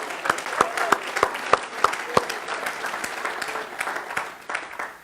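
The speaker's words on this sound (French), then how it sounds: "je voudrais vous acclamer" An audience applauds and cheers, steady clapping with a few sharp, close claps standing out near the start, under a continuous murmur of voices.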